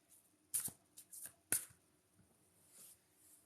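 Tarot cards are shuffled close by in a few quick riffling bursts with brief pauses between them, and nobody speaks.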